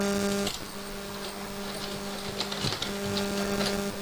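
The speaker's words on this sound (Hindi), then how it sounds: "तो मैं इन तीनों को ना यहाँ पे सिल दूँगी ऐसे।" Three fabric strips and white threads being stitched together on a sewing machine: a fast, steady mechanical whir with a brief stop midway, close and fairly loud, no talking.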